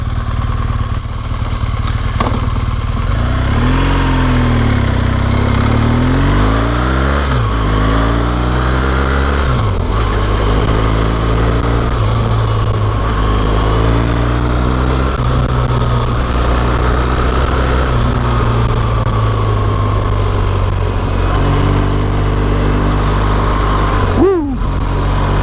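A motorcycle climbing Wrynose Pass in the Lake District, its engine revving steadily and loud throughout with rising and falling pitch sweeps as it accelerates and shifts gears, wind rushing across the microphone.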